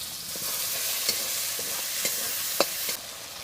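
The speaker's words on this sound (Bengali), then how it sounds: "কাঁচা টমেটো, পাকা টমেটো আর আলু দিয়ে ভালো করে কষে নিয়েছি।" Green and ripe tomatoes with potatoes sautéing in a pan, a soft continuous sizzle with a few sharp spatula knocks against the metal, close up and with no one talking.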